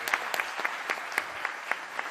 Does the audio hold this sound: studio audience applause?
yes